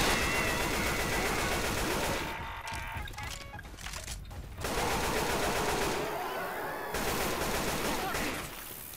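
Rapid automatic gunfire aimed at the Tank in Left 4 Dead 2 comes as loud, dense bursts of rattling shots, broken by a brief lull in the middle before firing resumes.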